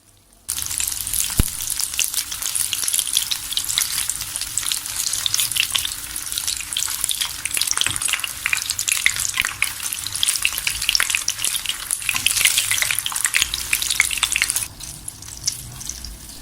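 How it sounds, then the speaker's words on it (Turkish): Steady, loud sizzling of meatballs frying in a pan, with occasional stirring or turning clicks, continuous throughout with no talking. "Altlı üstü döndürerek kızartarak pişiriyorum."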